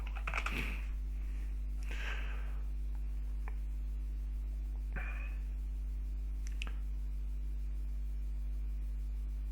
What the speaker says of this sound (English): Let's type it in and see what comes up.